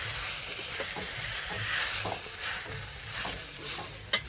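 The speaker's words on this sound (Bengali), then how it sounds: "চাউমিনটা দিয়ে ভালো করে মিক্সড করে নেব।" Chow mein noodles mixed with chopped nuts are stirred in a hot pan, giving continuous sizzling and hissing with scraping stirring strokes and a sharp clink near the end, close and without talk.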